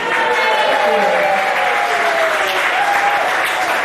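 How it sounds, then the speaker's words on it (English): An audience at the Mariners Club in Hong Kong applauds steadily for a silver wedding anniversary couple. The dense, sustained clapping is loud and even for the whole stretch, with some faint crowd murmur mixed in. "give him a big Mr. and Mrs. round of applause"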